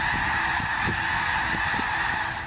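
A large colony of seabirds calls at once, a dense continuous honking and squawking chorus with individual cries standing out, loud and close, with no talking.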